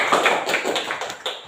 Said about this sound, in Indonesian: Kita beri aplaus lagi.